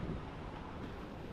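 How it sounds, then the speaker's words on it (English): Ocean waves wash in at Karon Beach, Phuket, as a steady, broad roar of surf mixed with wind buffeting the microphone, continuous and fairly soft with no voices. "here we have also some waves in Karon Beach"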